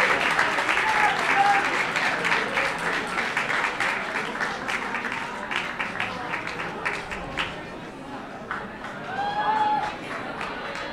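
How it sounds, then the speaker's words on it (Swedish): Audience at the Miss Universe Sweden 2015 final in Café Opera applauds Miss Earth Sweden with steady clapping that gradually thins, a few voices and whoops mixed in. "En stor applåd!"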